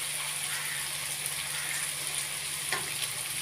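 Ginger garlic paste hitting chicken in a hot pan, a steady soft sizzle and frying hiss with faint stirring, low and continuous without talk.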